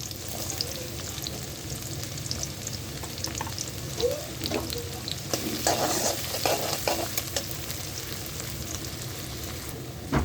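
Onion and fennel seeds fry in oil left over from frying elephant yam, sizzling steadily up close while a spoon stirs and scrapes the pan now and then. No one speaks.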